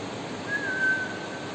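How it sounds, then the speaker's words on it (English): A person whistles during a facial nerve examination, giving one brief, steady, thin tone of moderate loudness against a quiet background, with no speech. "Can you whistle please?"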